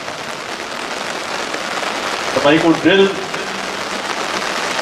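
Rain falls steadily during an outdoor military parade for 121 recruits in Himachal, a continuous close hiss with a voice speaking over it partway through.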